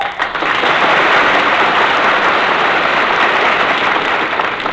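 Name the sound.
studio audience applause on radio show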